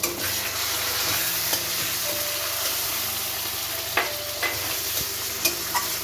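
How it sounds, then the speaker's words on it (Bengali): Tomatoes frying with onion and garlic paste in a pan for a pomfret dish, an even, close, continuous sizzle with occasional light clicks of stirring. "টমেটোগুলো দিয়ে দিলাম।"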